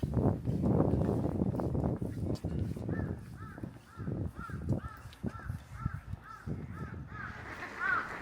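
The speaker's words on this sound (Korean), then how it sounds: "얼음 위에서 쉬고 있는 철새들도 많습니다." Migratory birds calling at a winter lake with ice, a run of repeated harsh calls in steady rhythm over a busy background of other noise and low voices.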